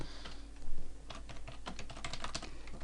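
Typing on a computer keyboard while entering a nested IF formula in a spreadsheet, with quick irregular clusters of close key clicks and taps for a few seconds, with no talking.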